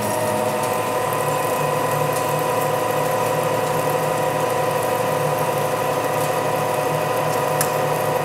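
A Lion lathe cutting an 8-inch steel shaft at reduced spindle speed, a steady mechanical hum with a low tonal drone and faint ticking, continuous and close, no voices.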